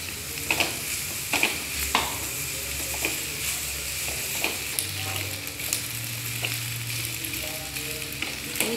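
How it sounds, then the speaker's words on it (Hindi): Macaroni is stirred with lightly cooked vegetables in a frying pan. A steady close sizzle runs throughout, broken by regular scraping and tapping of the spoon, and a faint low murmur sits underneath. "हम इसको डालेंगे मैक्रोनी को"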